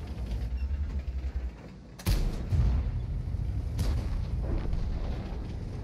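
A tank cannon firing in World of Tanks: one sharp, loud boom with a rumbling tail about two seconds in, then a fainter second report over steady engine rumble.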